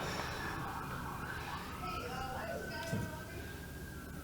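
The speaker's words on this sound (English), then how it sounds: "Wonder if the sirens got picked up on stream there" A faint siren wails in the distance, rising and falling beneath a low hum and murmuring voices at an Overwatch LAN event.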